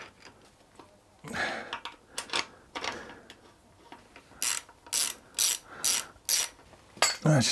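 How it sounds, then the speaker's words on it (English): A ratchet-style wrench tightens the front fork bolts on a Harley Davidson Sportster, clicking in a series of crisp, close bursts that come faster and more evenly toward the end, with no voices. "Just get those torqued up."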